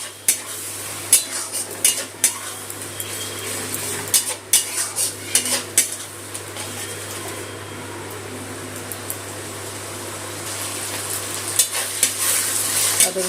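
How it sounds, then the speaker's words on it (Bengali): Ginger-garlic paste sizzles with fried onions in a pan for roasted onion chicken, a steady broadband fry under repeated close scrapes and clinks of a utensil stirring against the pot, with a faint fan hum beneath. "আদা রসুনটা কষিয়ে নিচ্ছি পেঁয়াজের সাথে"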